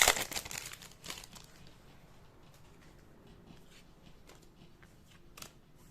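Crinkling plastic wrapper of a Magic: The Gathering Innistrad Midnight Hunt prerelease booster pack being torn open, a loud burst at the start, then softer intermittent crackles and rustles close by.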